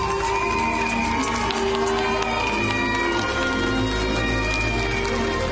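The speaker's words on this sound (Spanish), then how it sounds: "Todos aplauden, mi amor." A crowd on balconies applauds and cheers in a dense, continuous wash of clapping and shouting that holds steady throughout, with no single voice standing out.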